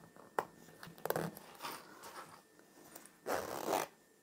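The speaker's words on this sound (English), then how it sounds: "I'll pull this zip all the way across until that's closed" Zipper pulled closed on a fabric travel toiletry pouch, several short raspy zips in quick bursts, close and quiet, ending with a longer pull.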